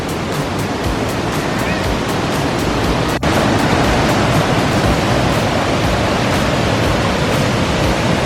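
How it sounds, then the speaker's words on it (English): Fast-flowing water of a waterfall near Dalat, Vietnam, roars as a steady, loud, broadband rush filling the whole stretch, close to the microphone. "There's some fast flowing water. There's another waterfall just there."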